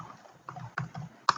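A handful of quick keystrokes on a computer keyboard, close and crisp, with a sharper final click.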